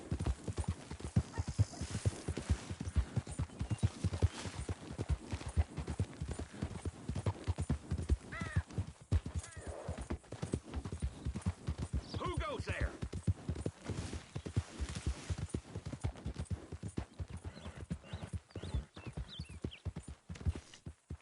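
Horse hooves clip-clop steadily on the ground in Red Dead Redemption 2, a long run of regular beats from a trotting horse with occasional whinnies and some speech mixed in at moderate to quiet volume.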